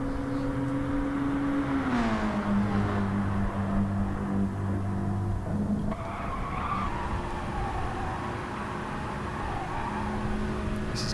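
Mustang race car at speed on the Big Willow track during a Next Generation Contender Cup race, engine note rising then dropping through shifts with tire squeal, loud and continuous, sweeping past.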